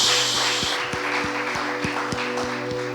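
A church congregation claps in a steady, even rhythm, with sustained musical tones ringing beneath the sharp, evenly spaced claps.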